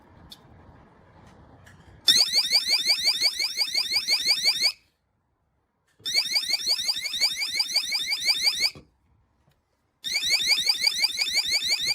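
A GoveeLife water leak detector alarm blares in loud, rapid warbling beeping bursts, three long stretches of a couple of seconds each separated by short silences, after a quiet start.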